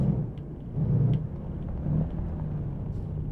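A low, steady truck engine rumble from a video game idles and swells slightly, a heavy vehicle motor running with no talking.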